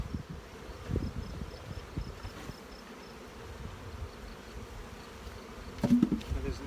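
Honey bees hum in an apiary among nucleus hives, a close, continuous low buzz with individual bees swelling past.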